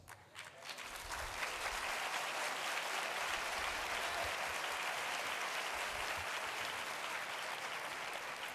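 Sustained audience applause fills a hall at a university summer-school debate, swelling within the first second into steady, dense clapping that continues to the end with no voices over it.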